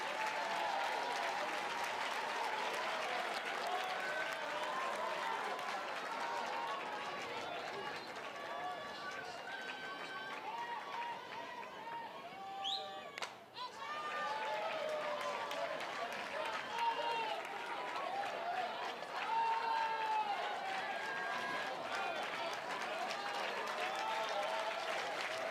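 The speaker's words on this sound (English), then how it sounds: "Patrick Murphy getting this crowd up." A crowd at a college softball game between South Carolina and Alabama cheers and applauds without a break, a loud, dense roar of clapping and shouting that swells near the middle, with commentators' voices running over it.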